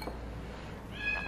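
A cat meows once, faintly, near the end of a short stretch of quiet room noise, its tone thin and rising.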